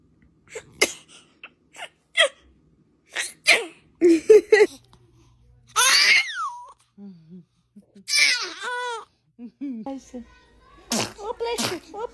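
A newborn baby gives a few small sneezes among gasps, fussy cries and babbling, close and fairly loud, with an adult's voice reacting in between.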